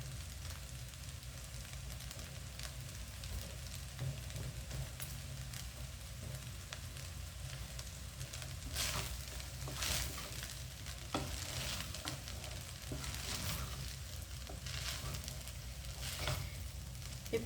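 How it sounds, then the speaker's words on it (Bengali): Tomatoes and green onion sizzling and frying in a pan for vegetable and egg fried rice, a steady close crackle with occasional stirring, no talk. "প্রথমে টমেটোগুলো দিয়ে দিব হালকা নরম হওয়ার জন্য, তারপরে গ্রিন অনিয়ন"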